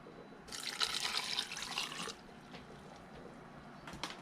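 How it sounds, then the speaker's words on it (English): Coconut water poured into a blender for a mango greens smoothie with sea moss, a bright splashing gush lasting under two seconds, followed by quieter faint rustles and small taps. "we got 1 cup of coconut water."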